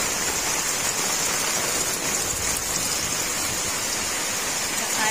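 Heavy rain pours steadily during a typhoon over a rural yard with chickens, papaya trees and vegetable plants, a dense unbroken hiss filling the whole stretch with no voices.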